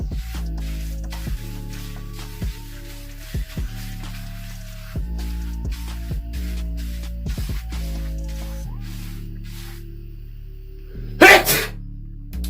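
One sharp, loud sneeze bursts out near the end, following a stretch of soft rhythmic hair-brushing strokes.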